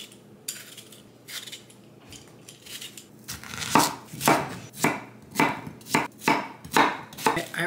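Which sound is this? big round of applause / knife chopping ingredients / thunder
knife chopping ingredients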